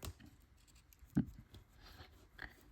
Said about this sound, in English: where his paw is, we're going to stop cut, carve up to it.